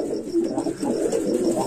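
A Rampuri pigeon coos close by, giving a steady run of soft, throaty, rolling coos that rise and fall for the whole stretch with no other voices.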